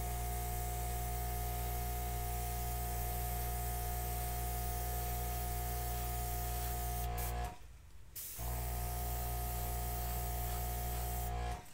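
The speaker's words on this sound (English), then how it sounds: "when you're pushing out with an airbrush, go that little extra more to keep that from happening so much" An airbrush sprays acrylic paint in a steady close hiss with a low hum beneath, briefly cutting out near the end before resuming; no one speaks.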